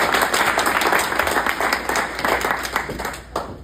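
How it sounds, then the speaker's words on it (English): An audience at a St. George, Utah stage event breaks into dense, sustained clapping that fills the whole stretch, steady and close, then thins slightly toward the end. "Let's give her one more round of applause"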